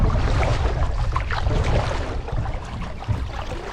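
Kayak paddle strokes push through the water on a windy day, a steady close-up swish and splash layered over continuous wind rumble, with no talking.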